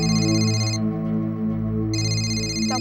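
A phone rings with a continuous electronic ringtone, a dense, steady musical tone with bright high notes that briefly drop out and return, no voices heard.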